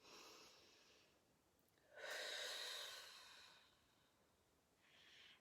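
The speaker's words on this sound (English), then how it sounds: "Take a deep breath now." Slow, deep breaths sound close and airy: a soft inhale, a longer and louder exhale through the middle, then another gentle breath at the end, with no talking.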